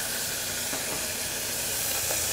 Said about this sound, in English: Going to add some water to this. And now it's going to steam.